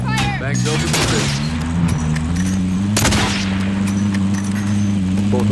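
Gunfire in the Call of Duty: Warzone battle royale, sharp shots and bursts cracking repeatedly over steady in-game drone and radio chatter, with a loud volley near three seconds and people talking throughout.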